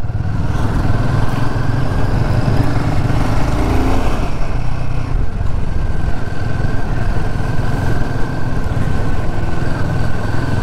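A Royal Enfield Himalayan 452 motorcycle ridden on a road trip toward North Sikkim, its single-cylinder engine droning loud and close in second gear under heavy wind rush, with no talk.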